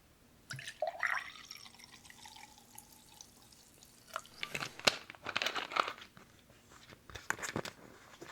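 Soda pop is poured into a cup, giving a close fizzing, crackling hiss with drips and small clinks, and it rises in bursts between quieter pauses.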